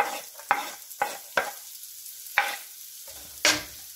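Garlic and onion are sautéed in melted butter for lechon sisig, with a soft sizzle under sharp spatula scrapes and taps against the pan at irregular intervals.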